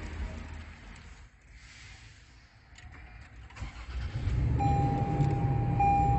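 A 2021 Toyota Prado TXL engine turns over and catches partway through a quiet stretch, then settles into a steady, close idle hum.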